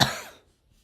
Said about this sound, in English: The coughing's still happening.